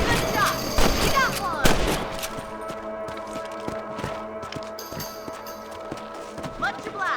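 Rifle shots during a rabbit hunt in the Red Dead Redemption video game, sharp cracks ringing out a few times over horse hooves and game ambience, with voices talking.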